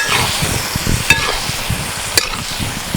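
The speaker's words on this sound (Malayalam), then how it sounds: "നന്നായിട്ടൊന്ന് മിക്സ് ചെയ്തെടുക്കാം" Country chicken masala for nadan chicken perattu sizzles loudly in the pan while a spoon stirs it in steady scraping strokes, with a couple of sharp clinks and no talking.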